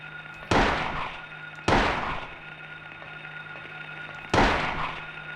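Shotgun blasts from the survival horror game Silent Hill 1: three loud, sharp booms, each with a short fading tail. Two come close together and the third follows after a pause, over a steady low hum.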